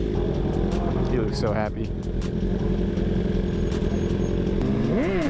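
A Yamaha R1 motorcycle engine drones steadily and loudly throughout, its pitch rising and falling with revs, while people talk over it.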